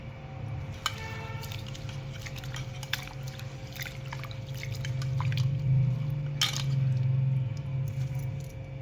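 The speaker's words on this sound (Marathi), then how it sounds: "आणि स्वच्छ पाण्यानं दोन तीन पाण्यानं धुवून घ्यायचं" Soaked sago and barnyard millet being rinsed in clean water gives close splashing and trickling with scattered light clinks and drips, swelling into a fuller swish of water in the latter half.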